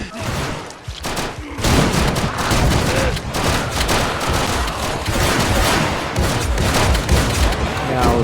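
Bandits fire rifles, shotguns and pistols in Project Zomboid, a dense, loud fusillade of overlapping gunshots running almost continuously after a brief lull near the start.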